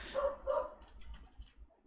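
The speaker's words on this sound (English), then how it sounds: "Hopefully the dog's not too loud in the background" A dog indoors barks twice in quick succession, two sharp mid-pitched woofs, followed by softer muffled sounds, fairly close but not loud.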